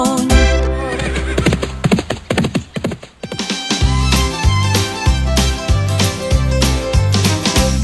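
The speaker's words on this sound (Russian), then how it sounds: "На ферме он самый трудолюбивый конь." A horse whinnies loudly over a bouncy musical backing in a children's farm song, with clip-clop hoofbeats mixed in, all bright and close.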